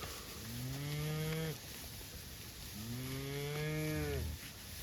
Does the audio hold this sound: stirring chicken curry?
no